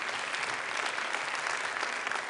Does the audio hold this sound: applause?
yes